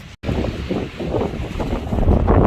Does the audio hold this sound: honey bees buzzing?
no